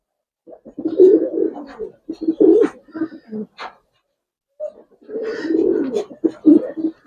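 Giribaz silver pigeons coo in close, soft bursts, with throaty rolling calls in two clusters separated by a brief quiet gap.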